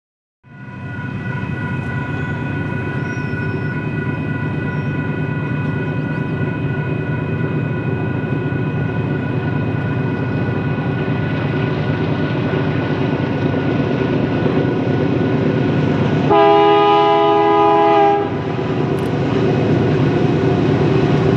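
A freight train grinds steadily up a mountain grade around a curve at Palmer Lake, Colorado, a loud continuous rumble of engines and wheels, with a long, strong horn blast sounding near the end, no voices.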